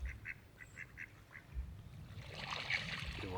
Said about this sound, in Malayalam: നമ്മളെ താറാവും കൂട്ടം പതുക്കനെ നീന്തി ഇങ്ങോട്ട് എത്തിയിട്ടാ.